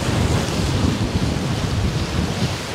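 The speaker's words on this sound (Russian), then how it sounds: "Ой, и волна идет." Loud, dense roar of Black Sea storm waves surging and breaking close by on a beach at Simeiz, Crimea, mixed with heavy wind rumble, continuous throughout with no voices.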